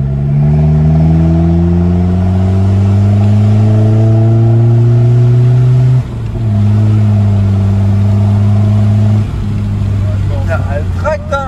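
Audi A3 1.9 TDI diesel engine with questionable Chinese injector nozzles, idling then revving up and down with a steady harmonic drone and a loud, close presence, with voices talking over it.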